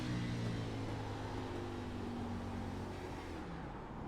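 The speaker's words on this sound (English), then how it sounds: "you can hear he's clutching it right there, trying to save gas" A stock car engine in a racing game held low on throttle and clutched to save fuel, a steady droning hum with no voices.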